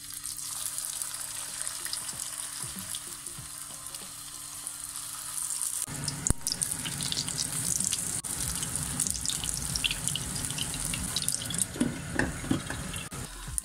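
Dumplings are laid into well-heated oil in a frying pan. After a quieter stretch with a low hum, a loud, close, crackling sizzle bursts in and keeps going steadily to the end, with no talking.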